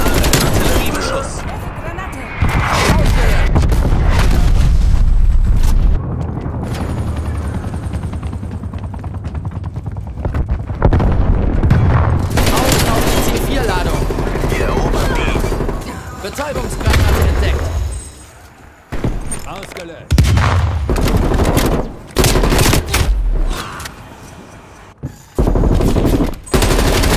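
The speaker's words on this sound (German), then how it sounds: "An alle Artilleriebeschuss." Artillery barrage in Call of Duty Black Ops Cold War on the Garrison map, a long, loud stretch of booming impacts and rattling gunfire with a helicopter-like drone, broken by a few short gaps near the end.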